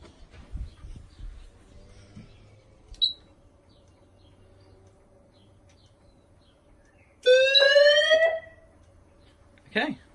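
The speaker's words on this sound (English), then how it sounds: "you should hear the outdoor sounder go off as well" During a monthly fire alarm test, an outdoor alarm sounder blares for about a second in a loud, harsh, rising tone, set among quiet room noise with short electronic chirps before and after.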